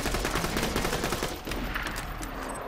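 Rapid pistol fire in the video game Borderlands 2, a dense stream of quick shots at a fairly low, even level throughout the short stretch.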